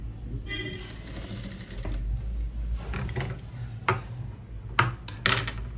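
A sewing machine runs a straight seam on a sharara in quick, ticking mechanical bursts, with short pauses and clicks between runs, under a voice speaking Hindi.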